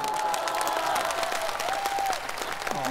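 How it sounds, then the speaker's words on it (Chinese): Dense, sustained audience applause fills a crosstalk comedy show stage, steady and close throughout, with a faint voice just audible beneath it. "后面的观众啊，虽然离得远，但是该鼓掌鼓掌啊"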